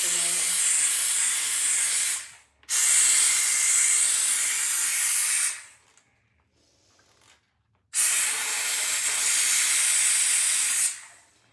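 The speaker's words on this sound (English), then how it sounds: "I'm gonna put the steamer right in this side" A steam cleaner hisses loudly over a toilet in two long, steady blasts, each a few seconds long, with a near-silent pause between them and a short third burst starting near the end.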